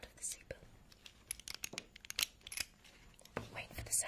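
Someone handles a vintage 1963 seatbelt up close: soft rustles of webbing and scattered small metallic ticks and scrapes, with quiet whispering in the background.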